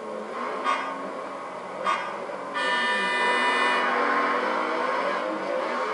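Car engine in the racing game Need for Speed Shift holding revs, then a louder sustained buzzing launch burst from about 2.5 seconds, with two brief revs blipping earlier.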